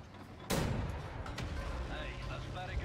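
Cannon in the shooter Wolfenstein: The New Order fires a single loud, sharp blast that decays into rumbling battle ambience, with faint mechanical clatter afterward.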